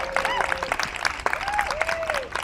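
An audience at a sustainability forum claps for the youth standing before them, a sustained wash of applause with thin tonal squeals gliding above it and a brief dip midway.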